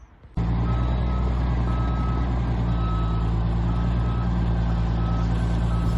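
A lorry carrying a narrowboat beeps steadily as it reverses, with evenly spaced tones sounding over a loud, continuous diesel engine drone that starts abruptly.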